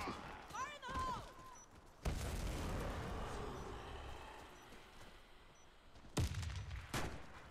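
In a competitive online shooter match, a grenade blast bursts out, followed by a long rumbling decay and later sharp gunshots. A voice calls out briefly at the start.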